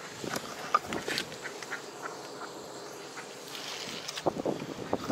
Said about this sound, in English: here we have more ducks and swan here